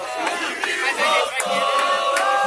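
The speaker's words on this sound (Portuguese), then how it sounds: "A torcida ali se manifesta." Spectators at a high-level futevôlei match cheer and shout together, with a loud, continuous wash of crowd voices and raised yells close by.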